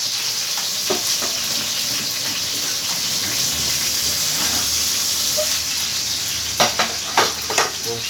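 Tomato frying in a pan, a steady loud sizzling hiss with a few scraping stirs near the end, no talking.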